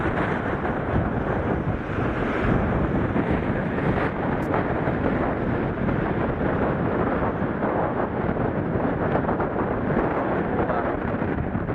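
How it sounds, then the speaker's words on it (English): Strong, unbroken wind roars into the microphone along the Otago Rail Trail in New Zealand, a loud steady buffeting rumble that fills the whole clip with no clear voices. "Unbelievable wind."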